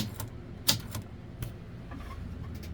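Antique 1912 Harris Visible No. 4 typewriter, freshly oiled, with its keys striking in a sparse, irregular series of sharp clacks. One louder strike stands out near the start, and the room is otherwise quiet.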